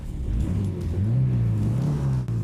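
An old car engine, found abandoned and dusty, cranks and strains to start, giving a loud, steady low rumble that rises and wavers throughout, heard alone with no talk.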